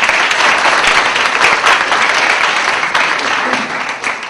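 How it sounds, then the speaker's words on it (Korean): An audience applauds at the close of a lecture session on building mobile web apps with open source, dense sustained clapping from many hands that stays loud throughout and only begins to thin out at the end. "박사님께 큰 박수 부탁드립니다"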